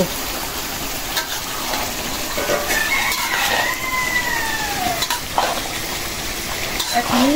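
Beef sizzles and hisses steadily in hot spiced oil while a utensil stirs and scrapes the pan; a rooster crows faintly in the background.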